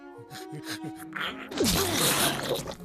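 A single sharp sneeze bursts out after a short stretch of voice, followed by a noisy breathy rush.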